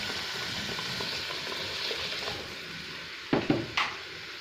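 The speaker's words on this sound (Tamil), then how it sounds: "நல்லா கொதிக்கட்டும்" Onion chutney simmering in a pan, a steady low bubbling and faint sizzle, with a few louder clinks or pops near the end.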